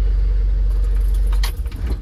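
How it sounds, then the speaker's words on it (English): A car idling loudly up close, then its engine cut off as keys jangle in the ignition, the low rumble dropping away into bright metallic rattling, no talking. "switch off the car"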